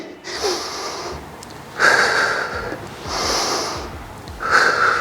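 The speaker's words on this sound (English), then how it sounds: "Breathing out and breathing in." Heavy rhythmic breathing during a postpartum core workout, several slow in-and-out breaths, close and clear with no talking.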